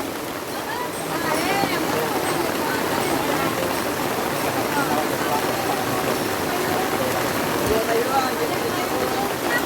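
Continuous rain pouring down at a cemetery in Indonesia with a steady hiss and patter, loud and close throughout, with faint background sounds mixed in.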